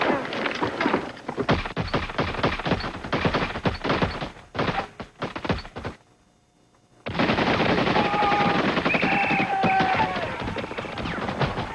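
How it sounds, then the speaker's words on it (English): Dense machine gun fire and gunshots in a war film battle scene, loud rapid bursts that stop for about a second before a continuous roaring barrage resumes with higher whistling tones. "Every man, fire 3 rounds and anything looks suspicious to him."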